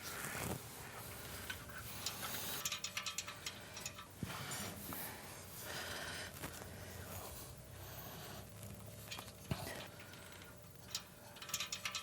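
Ratchet clicking steadily as flange nuts are run down on the exhaust of a Milwaukee Eight Fat Bob Softail during an S&S Super Street 2-into-1 install, with close mechanical ticks and clanks throughout a busy workshop background.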